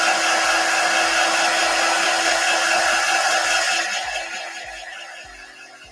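A hair dryer blows loudly and steadily to dry paint on a wooden scrap-wood gnome, its airflow roar fading slightly toward the end as it is moved away or switched off.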